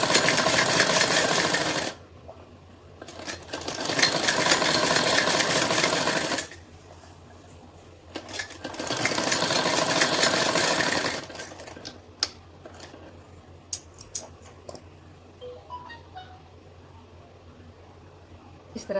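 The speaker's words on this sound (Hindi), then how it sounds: "और अब इसके ऊपर मैं डबल सिलाई भी लगाऊंगी ताकि ये दब जाएगी नीचे से।" A sewing machine stitches a double seam on an A-line suit in three long, steady, rapid bursts of close, loud mechanical clatter, separated by quieter pauses filled with small handling clicks and taps.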